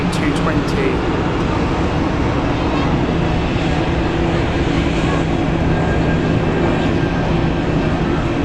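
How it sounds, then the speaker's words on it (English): Airbus A220 jet engines at Zurich Airport, a loud, sustained low-toned roar with a steady hum, unbroken throughout without speech. "Says the noise of the A220 is something else."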